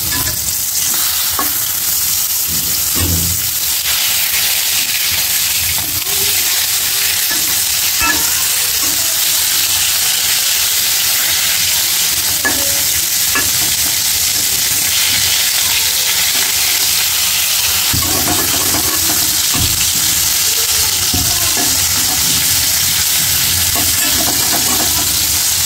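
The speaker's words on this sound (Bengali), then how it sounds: "তেলটা গরম হয়ে গেছে, কারণ মাছটি দিয়ে দেবো।" Fish frying in hot oil in a pan, a loud, steady sizzle that runs without a break. Occasional stirring and turning clatter is heard, with no talk.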